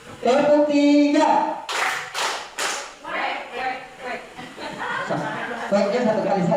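A group of adults at a teacher training session claps hands together in short sharp bursts of a counting game, with voices and laughter mixed in around the claps.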